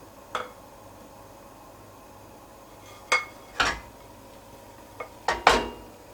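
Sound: frying pan swirled by hand to spread souffle omelette

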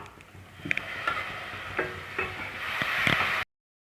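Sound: sautéing tomato paste with masala for chicken gravy

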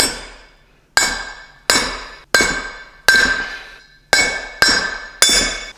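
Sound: tapping a bearing into a Miata flywheel

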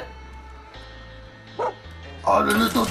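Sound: dog barking in video game Far Cry 5

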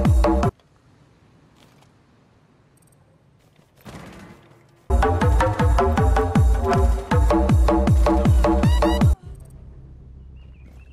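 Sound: gunfire in Rainbow Six Siege video game

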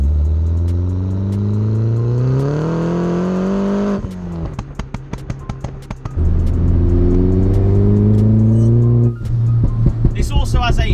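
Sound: 300bhp R56 Mini John Cooper Works engine revving with pops and bangs

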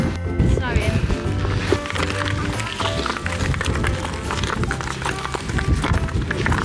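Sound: footsteps running on glacier ice wearing spiky crampons

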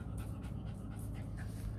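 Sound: dog panting in Vietnamese countryside

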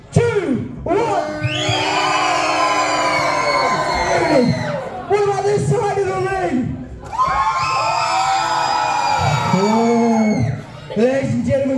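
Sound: wrestling show crowd cheering loudly

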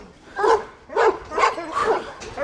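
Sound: Kangal puppies barking

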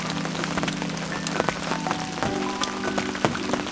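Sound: heavy rain falling

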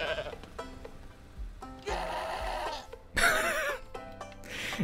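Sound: goat bleating in a video game

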